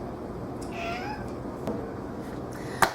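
A short cat meow sounds near the start over steady background noise, followed by a few faint clicks and a sharp tap.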